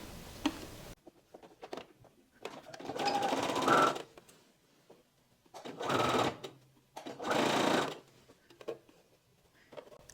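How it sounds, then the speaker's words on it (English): Sewing machine stitching bias tape along a blouse neckline, running in three separate bursts of rapid, close stitching with quiet pauses between, the first burst cut off abruptly at the start. "Now we take our bias tape and we're gonna sew it along the neckline."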